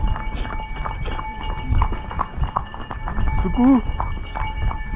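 A horse clip-clops along a mountain trail toward Muktinath Temple in Nepal, its irregular hoof knocks close by, mixed with people talking and a brief whistle-like call.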